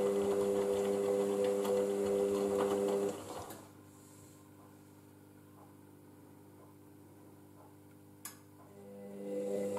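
An Indesit IWC6165 washing machine whirs steadily during its cycle with a tonal motor hum, then drops abruptly into a quieter pause broken by a single click before the hum starts building again.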